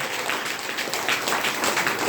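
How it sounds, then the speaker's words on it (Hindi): An audience at a DXN health training program in Bhagwanpur claps together, producing a dense, steady patter of applause that holds at an even level for about two seconds. "जोरदार ताली मारो यार"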